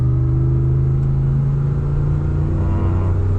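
A Dodge 4.7L engine pulls hard toward 3,000 rpm on a road test, a loud, steady, droning rumble heard from inside the vehicle, its pitch holding nearly level and rising slightly.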